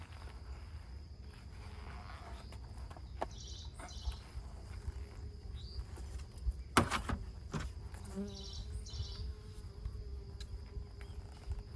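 Insects buzz faintly around bee colony hives outdoors, with soft intermittent fly-bys over a low hum and occasional light knocks and rustles.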